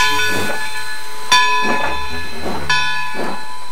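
A steam train pulls into a station in a cartoon, with rhythmic bursts of hissing steam chuffing at a slow, regular pace over a steady tonal ring, loud and close with no talking.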